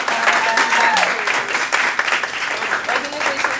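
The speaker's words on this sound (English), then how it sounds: "So everybody just give a round of applause." Applause from an audience at a graduation celebration, dense steady clapping throughout with a voice speaking over it.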